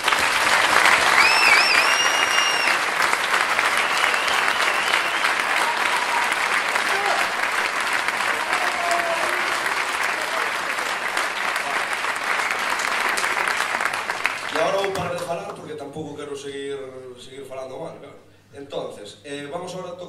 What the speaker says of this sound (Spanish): Gustaríame un fuerte aplauso para toda a xente que estuvo na organización do evento